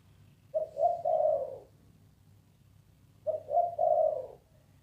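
Two clear cooing phrases from a dove, each three rising soft hoots, separated by a short pause over a faint low hum.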